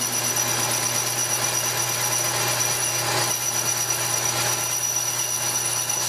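A metal lathe takes a light cut on a cast iron wheel for a live steam project, producing a loud, continuous machining whine and hum that stays steady throughout.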